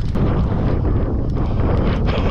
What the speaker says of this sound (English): Yes, it is windy.